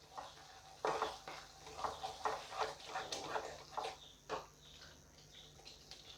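Paneer pasanda ingredients with fresh cream being stirred in a pan, giving soft repeated scraping and clinking of a spoon against metal, close but quiet, in an uneven rhythm with no voices.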